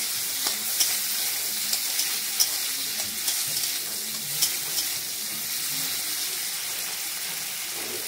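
Prawns frying in hot oil in a pan, a steady bright sizzle throughout with small pops and occasional stirring clicks, close and moderately loud with no talk.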